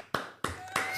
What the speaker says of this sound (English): That double applause there